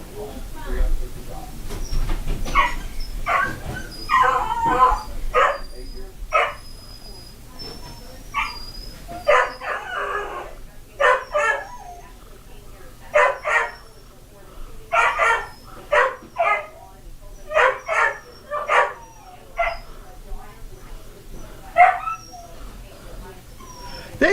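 Puppies bark and yip in a steady run of short, sharp calls with some whimpering, fairly close, while people talk intermittently around them.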